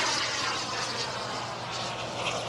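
A giant 3.4 m Global Jet Club Viper Jet radio-controlled model roars steadily overhead at full power during aerobatics at Florida Jets, a continuous turbine whoosh with a slight swell and fade.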